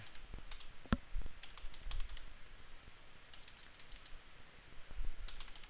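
Quiet, close keystrokes on a computer keyboard as a SQL query is typed, scattered clicks in short irregular runs over a soft background hiss.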